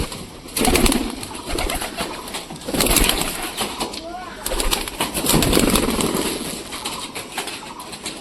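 Pigeons coo softly amid bursts of fluttering wings, with an occasional voice in the background.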